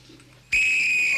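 A whistle gives one loud, sustained, piercing blast that cuts in abruptly after a quiet indoor moment and holds steady to the end.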